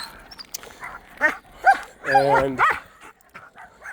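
Young year-old Doberman pinscher whining and giving short barks and yips at close range, with someone talking over and between the sounds.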